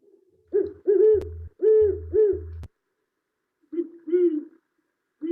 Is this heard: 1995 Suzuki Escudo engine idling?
no